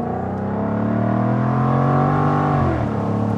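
Jaguar F-Type sports car engine revving, a steady, close, loud droning exhaust tone that swells and then eases slightly, with no speech over it.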